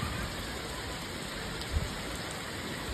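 Steady rain falls during a sudden downpour outdoors, a dense even hiss of drops on surfaces throughout, with one brief soft thump partway through and no voices.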